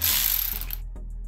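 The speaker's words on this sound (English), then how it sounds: "So now I can come back through with my ratchet." A hand ratchet tightening cowling screws on a Chrysler Town & Country Grand Caravan during a wiper motor replacement, a close, quick run of mechanical clicks that stops abruptly, followed by a couple of faint ticks.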